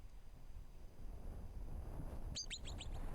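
A bird calls in the open outdoors with a quick burst of four or five bright, sharp chirps late in the moment, loud and near over a steady wind-like background hiss.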